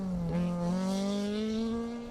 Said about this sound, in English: that BRM engine still singing